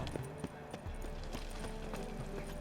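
Horse hooves clip-clop at a steady riding pace in The Witcher 3: Wild Hunt, soft and rhythmic over a faint ambient bed.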